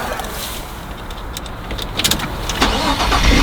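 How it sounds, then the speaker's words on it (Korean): A Ford Transit large minivan's engine starts, a brief starter crank rising into a steady close idle rumble inside the cabin, with no one speaking. "한번 시동을 한번 걸어볼게요."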